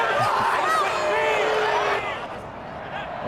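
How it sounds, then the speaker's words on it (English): A loud crowd roars at a football game between the Dublin Celtic Tigers and Austin Armadillos, a dense babble of many voices with cheering that swells and then eases off. "Oh, here goes a loud crowd."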